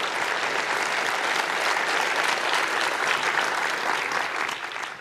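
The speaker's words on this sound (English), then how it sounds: "please give them a big hand of applause for supporting this" An awards-ceremony audience gives sustained applause for the competition's supporters, a thick, even roar of many hands clapping for about five seconds before thinning out at the close.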